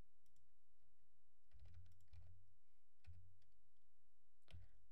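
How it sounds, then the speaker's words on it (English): Someone typing a DNS server address on a computer keyboard, with a few soft, scattered keystroke clicks in short bursts against faint background hiss. "You're going to type in the same thing for the second one."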